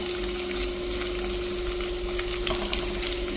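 Eggplant pieces frying in hot oil on a gas stove, a steady close sizzle and bubbling with a constant hum beneath, no voices.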